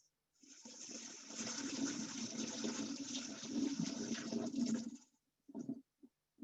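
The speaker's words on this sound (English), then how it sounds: "Okay, so give this a quick rinse." Tap water gushes steadily over dried legumes being rinsed in a kitchen for about five seconds, then stops, followed by a few brief splashes and trickles close by.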